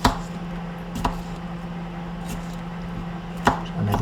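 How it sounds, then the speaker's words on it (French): Knife chopping potatoes into coarse pieces on a board in a home kitchen, a few separate sharp cuts spaced apart over a low steady background hum, close and fairly quiet. "Et je coupe ça en morceaux tout de même assez grossiers, parce que tout ça va être sauté à la poêle."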